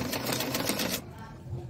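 A sewing machine stitches a straight seam in a fast, rhythmic run of needle clatter for about a second, then stops and leaves a quieter background with a voice nearby.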